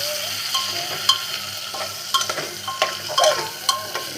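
Vegetable curry with tomato frying in a pan, a steady sizzle under repeated scraping stir strokes of a spoon against the metal, close and fairly loud with no voices.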